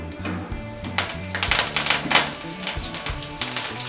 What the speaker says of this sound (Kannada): ಎಣ್ಣೆ ಕಾಯಿದ ತಕ್ಷಣ ಜೀರಿಗೆ ಸಾಸಿವೆ ಸ್ವಲ್ಪ ಸಾಸಿವೆ ಜಾಸ್ತಿನೇ ಇರಲಿ ಓಕೆ ಕರಿಬೇವು